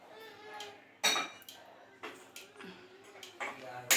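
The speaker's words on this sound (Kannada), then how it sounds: "ಪ್ಯಾನ್ ಇಡ್ತಿದ್ದಾರೆ." A pan set down on a home kitchen stove for tempering, sharp metallic clanks and knocks at irregular intervals, close and fairly loud, with someone talking between them.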